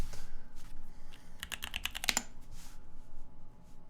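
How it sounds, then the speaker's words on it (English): Typing on a Cyber Board mechanical keyboard fitted with SP Star stock switches, a quick cluster of crisp clacking keystrokes in the middle, close-up and fairly quiet with no voices. "Typing sounds."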